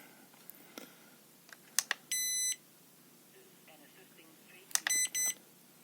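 A Tecsun PL-310ET DSP portable radio gives two short beeps, each a clean burst, with faint clicks from button presses around them in a quiet room.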